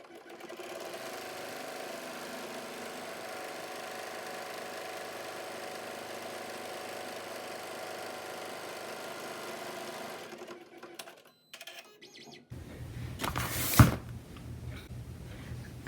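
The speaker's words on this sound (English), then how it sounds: "we're ready to sew this side" An embroidery machine stitches a fabric face mask held in its hoop, a steady close mechanical whir and rapid needle chatter for about ten seconds before it stops, followed by a few handling clicks and a louder clunk.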